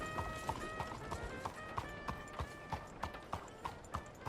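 Horse hooves clip-clop at a steady walking rhythm in Red Dead Redemption 2, close and distinct over a faint background, with no talking.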